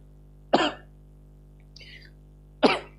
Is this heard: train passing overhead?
no